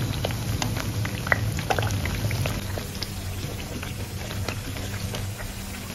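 Sweet tikki frying in ghee in a pan over low heat, a steady soft sizzle and bubbling crackle with scattered pops, fairly quiet and continuous.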